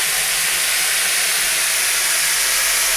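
Continuous loud steamy hiss and bubbling of a pot of mung dal boiling vigorously up close, with no talking.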